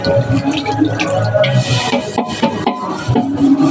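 A soot-blackened wok scrubbed with Surf detergent and water, close and loud, with rough irregular scraping strokes, wet sloshing and metallic clinks, and no talking.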